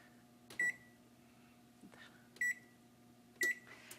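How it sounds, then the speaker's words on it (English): A kitchen timer is set for six minutes while chips bake for fruit salsa, giving three short, sharp electronic beeps spaced about a second apart over a quiet kitchen background, with no talk. "we probably should set the timer for about 6 minutes"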